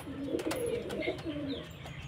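Pigeons cooing at a pigeon sale in Beldanga, with soft, low, repeated coos close by and no talk.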